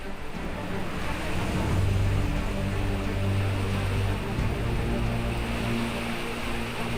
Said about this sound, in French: Le Kaituna est un torrent de montagne tumultueux.